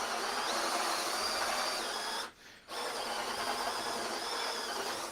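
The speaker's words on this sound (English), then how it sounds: "So when I drill forward, it shouldn't create a mess." A power drill bores forward through material, a steady whining buzz that runs close and loud, cuts out briefly for a moment, then resumes and continues to the end with no talking.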